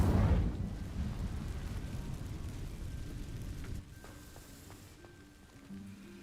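An Incendio fire spell cast in the Hogwarts Legacy video game, a loud whooshing burst of flame at the start that settles into a steady crackling roar before dropping away near the end, with no talking.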